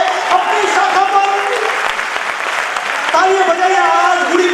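A crowd claps at a public speech honoring a leader during Navratri, sustained applause running loud throughout while a voice carries over it.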